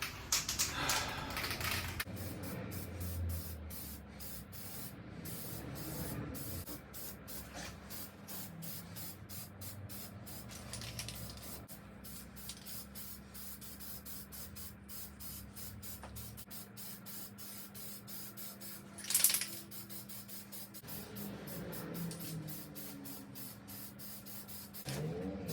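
Continuous aerosol spray hiss as a full coat of paint goes onto an old tool roller cabinet in a workshop, a long steady spray with brief pauses and one sharper burst near the end, with no talking.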